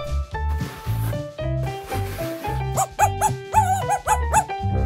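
A dog yips and whimpers in short repeated bursts during grooming after a bath, close and clear over a low rhythmic mechanical hum, in a children's series.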